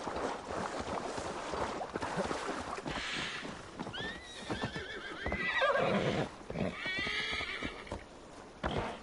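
A horse whinnies and neighs in Assassin's Creed Valhalla, with rising calls in the middle over steady clip-clop hooves and a windy outdoor bed, fairly close and loud.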